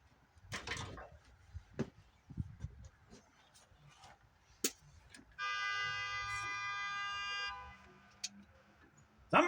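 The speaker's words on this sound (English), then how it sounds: "Somebody's honking a horn." A car horn blares in one steady, sustained honk lasting about two seconds, standing out over quieter background clatter and knocks.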